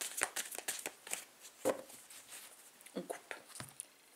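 Tarot cards shuffled and cut in a series of soft, quick riffling slaps and flicks, close and fairly quiet, with brief pauses between bursts.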